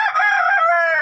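A backyard rooster among the chickens gives one loud, close crow, a drawn-out harmonic call lasting about a second.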